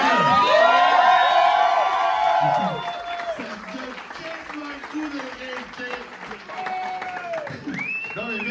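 A comedy club audience applauds and cheers loudly for a first-time stand-up comedian, with whoops and claps filling the room before fading as the host starts talking again over them.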